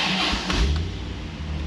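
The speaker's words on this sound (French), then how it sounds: "Même après avoir mis en marche la voiture, on va le faire." A 1990 Corvette C4 convertible engine cranks and catches, then settles into a steady, low idle rumble, close and fairly loud.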